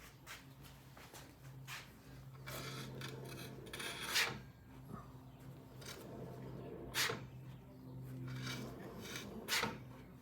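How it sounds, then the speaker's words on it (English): Front wheel brake assembly on a vintage British motorcycle being worked by hand, giving a few scattered metallic clicks and scraping knocks over a low steady hum at moderate, close range. "And here's the action of the brake assembly on the front wheel."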